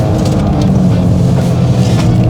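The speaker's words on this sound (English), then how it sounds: "that turbo is so fun to play with. Off throttle there, just giving you that sound." Low rumbling engine note from a turbocharged Toyota GR Corolla lifting off throttle on a track, steady and close, with a faint whooshing texture and no talk over it.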